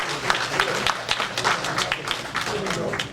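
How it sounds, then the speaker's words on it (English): Audience applause following a speech, a dense patter of many hands clapping steadily at moderate loudness, with crowd noise mixed in. "Please give him another hand of applause."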